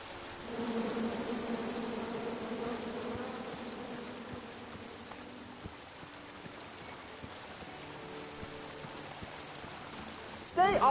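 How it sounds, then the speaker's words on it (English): Bees buzz in the King's Quest video game, a steady droning swarm that holds across the whole stretch at moderate level, with a short sharp sound right at the end. "Come at me, bees!"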